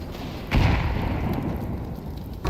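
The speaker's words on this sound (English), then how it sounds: "I'm throwing a grenade." A grenade explodes in CS2 with a heavy, booming thud that rolls into a long rumbling tail, loud and close, followed by a smaller knock at the end.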